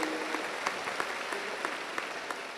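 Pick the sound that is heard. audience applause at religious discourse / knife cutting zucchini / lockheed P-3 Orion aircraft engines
audience applause at religious discourse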